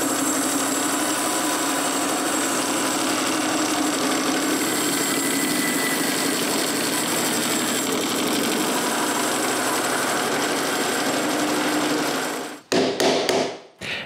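Saw cutting a block of acorn wood into pieces for turned mallets, a loud, steady buzzing drone that runs unbroken for about twelve seconds, then cuts off into a few sharp knocks and rattles.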